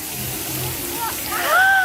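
Pool water at an aquapark sloshing and splashing under steady rushing water noise, with a voice and excited chatter over it near the end.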